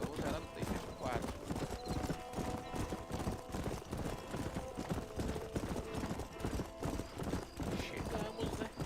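Horse hooves gallop in a steady rapid clip-clop rhythm in Red Dead Redemption on PS4, close and continuous, with occasional whinnies and game music underneath.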